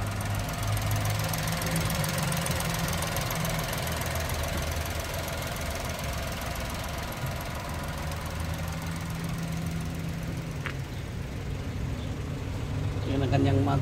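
A Mazda Wagon R kei car's engine idles with a steady low hum and slight knocking throughout, while someone talks over it.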